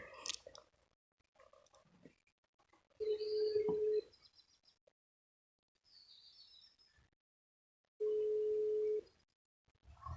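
A telephone ringing tone from an unanswered call sounds in two separate steady buzzing bursts about a second each, with quiet rustling and faint sounds between them.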